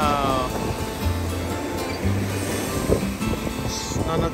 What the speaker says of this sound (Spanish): Ahí viene el agua.